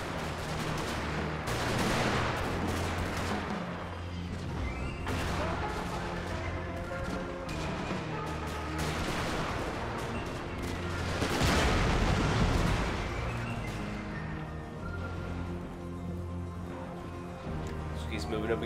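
Rapid artillery fire in an American Civil War mod video game, repeated distant booms and crackling gunfire rolling on steadily throughout, with someone talking over it.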